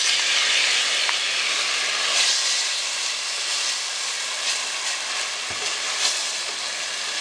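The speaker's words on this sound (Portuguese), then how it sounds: "Aí depois que eu fritei o alho, eu coloco o tomate" Tomatoes frying with garlic in a pan give off a steady, bright sizzle and hiss that runs throughout, with a few faint clicks and stirring sounds.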